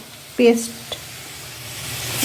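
Sliced onions frying in hot oil for a yogurt-style katla fish curry, with spice paste added: a sharp burst of sizzling near the start that quickly settles into a quiet, steady crackle.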